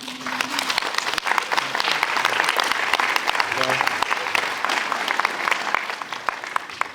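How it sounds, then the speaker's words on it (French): An audience at a mayor's New Year greetings ceremony applauds, dense sustained clapping from many people that holds steady and loud throughout, with faint voices mixed underneath. "Vous pouvez vous applaudir."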